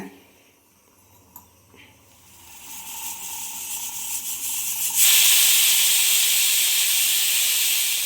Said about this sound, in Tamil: நம்ம குக்கர் போட்டு மூடி போட்டு மூடி வச்சுருவோம் மூணு விசில் விடுங்க